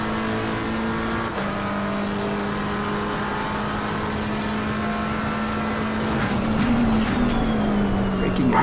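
Race car engines in Assetto Corsa Competizione at Silverstone, a steady high engine drone with shifting pitch that swells near the end, with someone talking over it throughout.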